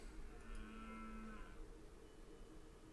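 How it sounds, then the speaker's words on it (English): A deer character in the Rusty Lake Hotel video game lets out a single drawn-out, cow-like moo of about a second, clear and fairly close over a quiet background hum. "Wait, did he moo at me?"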